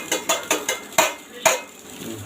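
A spoon scraping and knocking against a pot while rice with pepper is stirred, about six sharp clinks in quick irregular succession, close and alone.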